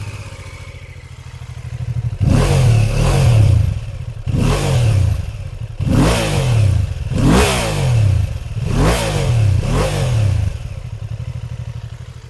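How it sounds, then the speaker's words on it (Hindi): BMW F450 GS motorcycle engine revved repeatedly from idle, six or so loud close blips rising and falling in a steady rhythm, with a deep exhaust burble between them. "और ये एग्जॉस्ट नोट इस तरह से है।"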